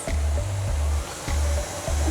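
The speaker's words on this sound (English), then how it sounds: "We're gonna turn it on and let it mix until most of the flour is incorporated." A stand mixer whirs as it mixes runny vegan Oreo brownie batter of flour, oat milk and vanilla, a loud steady motor hum that pulses in short bursts, close up with no talking.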